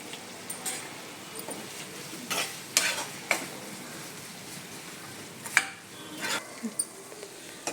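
Tomatoes and onions sizzle in a pan for a dal fry while a spoon scrapes and stirs in irregular clinks, close and moderately quiet.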